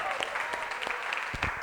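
A church congregation applauds, a dense continuous patter of many hands at moderate distance, with voices mixed in and a few heavier low thumps toward the end.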